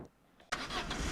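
A car engine in the video game Arma 3 cranks briefly, then catches abruptly and settles into a loud, steady running rumble after a quiet start.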